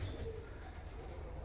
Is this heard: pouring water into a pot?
no